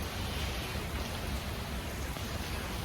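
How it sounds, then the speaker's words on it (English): Steady rain falling on a city street, a dense, even hiss with low rumble running throughout at close range, no voices. "Now that I am already in the rain"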